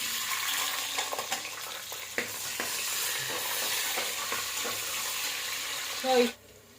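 Onions frying with shahjeera for biryani: a continuous close sizzle with occasional stirring scrapes, fairly even in level, ending in a short louder clatter before cutting off.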